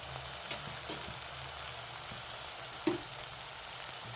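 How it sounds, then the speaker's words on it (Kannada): Ginger garlic paste frying in a pan for egg rice, a low, steady sizzle with a few soft spoon taps and scrapes, close and quiet with no talk. "ಶುಂಠಿ ಬೆಳ್ಳುಳ್ಳಿ ಪೇಸ್ಟ್ ಹಾಕ್ಬಿಟ್ಟು ಸ್ವಲ್ಪ ಫ್ರೈ ಮಾಡೋಣ ನೋಡಿ ಫ್ರೈ ಆಗ್ತಾಯಿದೆ"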